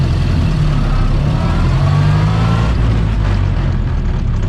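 A car engine labors loudly and continuously while slowing at the start of a hill, a dense low rumble shifting in pitch as the driver slows, stops and drops back into first gear, close and steady with no talk.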